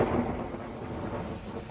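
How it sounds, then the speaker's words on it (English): A thunderclap sound effect from a Georgian-era radio drama set during a tempestuous October storm, a deep rolling rumble that breaks in loud and slowly fades, heard with no voices. "we may sometimes admit a thunderclap into our tale"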